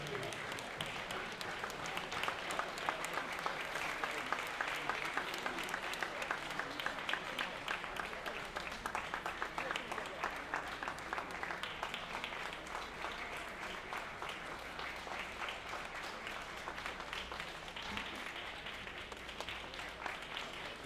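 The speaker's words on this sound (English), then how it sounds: "let us all give him a round of applause" A seated audience at an awards ceremony gives a long, sustained round of applause for a former prime minister, an even crackle of many hands that keeps going without pause.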